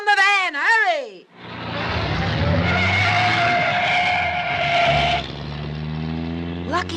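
A van speeds away in a chase with tires skidding and squealing loudly, the engine roaring beneath a sustained screech that runs for several seconds; voices are heard briefly before and after the skid.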